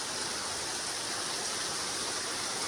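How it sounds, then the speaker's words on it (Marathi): Rain driven by strong wind makes a dense, steady roaring wash that stays loud and unbroken throughout, with no voices. "निघता निघता हवा पण जोरात सुटली आणि पाऊस पण."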